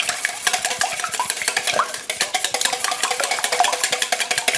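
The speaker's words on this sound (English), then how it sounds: "So we're just gonna mix that in with the egg." Egg and spiced rum stirred in a bowl, a utensil clicking and scraping against the sides in a fast, steady rhythm of sharp taps, close and loud with no talking.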